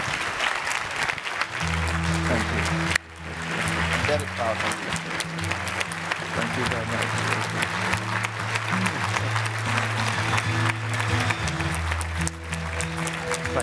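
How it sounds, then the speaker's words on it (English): Audience at an agriculture dialogue event applauds steadily for over ten seconds, a continuous bed of clapping with a brief spoken thank-you and a low hum underneath. "A very well deserved round of applause indeed."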